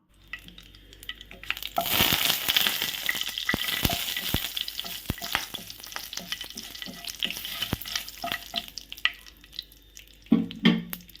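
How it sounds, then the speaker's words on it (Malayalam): Mustard seeds, cinnamon, cloves and curry leaves fry in hot oil for a Kerala-style squid roast, giving a steady close sizzle punctuated by sharp popping crackles and stirring clatter. "ഇത് നല്ലപോലെ ഒന്ന് മൂത്ത് വരുമ്പോഴത്തേക്ക് നമുക്കതിലേക്ക് കറിവേപ്പില കൂടി ചേർത്ത് കൊടുക്കാം."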